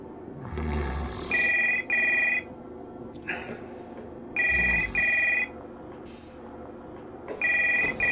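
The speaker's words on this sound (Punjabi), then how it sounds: "ਹੈਲੋ ਫੋਨ ਵੱਜ ਰਿਹਾ ਫੋਨ ਬਹੁਤ ਚੁੱਕ ਲਓ ਨਾ" A telephone rings late at night in a Punjabi comedy film scene, sounding in three loud paired bursts of bright electronic trilling separated by pauses, with people talking in between.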